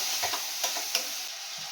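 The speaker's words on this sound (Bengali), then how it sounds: "এবারে আমি মশলাটাকে ভালো করে কষাবো" Spice paste of coriander-cumin powder, chili powder and garam masala fries in oil in a pan, with a steady close sizzle and a few sharp spoon scrapes and clinks as it is stirred.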